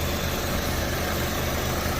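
A 1995 Eagle Talon engine, freshly given a valve job with new exhaust valves, idles with a steady, smooth, even hum and no voices over it.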